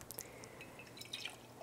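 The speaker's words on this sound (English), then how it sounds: "you're going to put some water in the bottom." Water trickling and dripping into the bottom chamber of a Moka pot as it is filled at home, a short, fairly quiet splashing pour with small drips, no talking.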